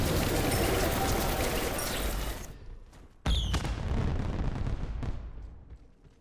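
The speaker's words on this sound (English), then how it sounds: "What's the point of the fireworks? It's just a 4th of July thing." Video game fireworks for a 4th of July event crack and boom in dense overlapping volleys, loud and continuous, with a sudden sharp burst after a brief lull; no voices.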